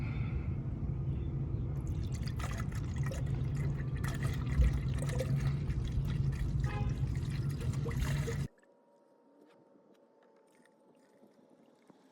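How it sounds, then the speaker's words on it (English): Antifreeze radiator fluid pouring into a car radiator, a steady close liquid gush and trickle lasting about eight seconds, then stopping abruptly into near silence. "we're gonna pour this up to the required level."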